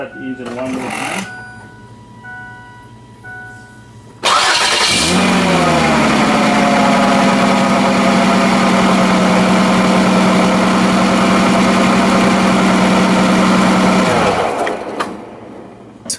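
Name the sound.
Ford Freestyle car engine starting and idling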